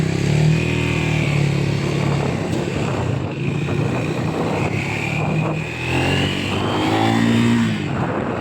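A Triumph Speed 400 motorcycle, 400cc, accelerates on a test ride, its engine droning loud and steady throughout as the pitch climbs and shifts, heard up close with wind noise.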